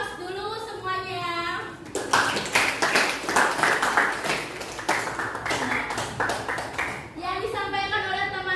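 A school class gives a round of applause, a burst of many hands clapping steadily for about five seconds between stretches of a woman's speech.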